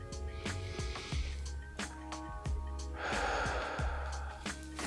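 A person breathes deeply while holding a yoga pose, with audible gasping inhales and exhales over a quiet rhythmic background and no talk.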